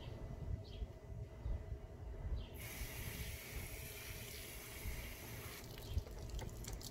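Water spraying onto a car wheel and tire during a rinse, a steady broadband hiss that runs the whole time and brightens partway through, close and loud, with no talking.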